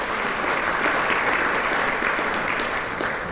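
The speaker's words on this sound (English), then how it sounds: "Give them a round of applause." Audience at an annual state of the town address claps for event sponsors, steady sustained applause from a sizable crowd, loud and continuous with no talk over it.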